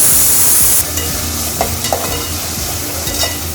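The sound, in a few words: onions and green chillies sautéing in pan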